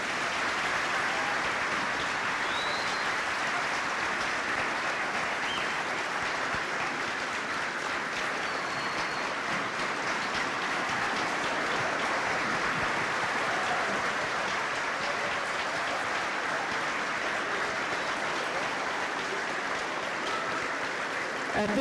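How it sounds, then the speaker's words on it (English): A large crowd applauds steadily for a long stretch at a school remembrance ceremony honoring military service, a sustained wash of clapping heard from a distance in a big room. "giving them one more round of applause for their service and sacrifice."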